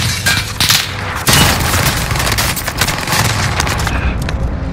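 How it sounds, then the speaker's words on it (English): A cluster strike in a video game sets off a rapid, loud run of overlapping explosions and booms, with one heavy blast a little over a second in and dense crackling detonations continuing throughout. "Cluster strike is active."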